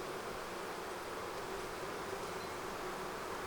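Honey bees at a neglected beehive during a pre-winter inspection, a steady, soft continuous buzz with no pauses and no voices.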